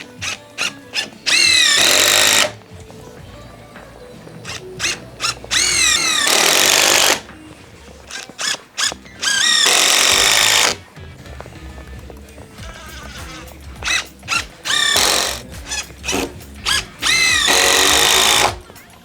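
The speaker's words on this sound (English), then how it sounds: "Then we're gonna buzz a few more screws in this end and then get all the hangers on." A power drill drives screws into timber on an outdoor building site, several loud bursts of whirring each lasting a second or two, separated by pauses filled with knocks and handling noise.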